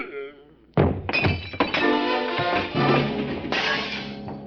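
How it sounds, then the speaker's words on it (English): Radio drama effect of a man struck with a sap and crashing into a bar. A heavy thump lands first, then a sustained clatter of breaking wood and clinking glass and bar gear tumbling over, loud and close, with music underneath. "The blow spun him around like a top, and he went down on the other side of the room, taking the bar and the mint julep ingredients along with him."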